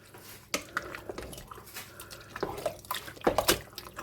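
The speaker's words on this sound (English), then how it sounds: "there's 6 tins of tomatoes. Give that a bit of a stir." Someone stirs a very full pan holding six tins of canned tomatoes, making soft wet squelches and sloshing with a few sharper clinks of the utensil against the pan, fairly quiet and close.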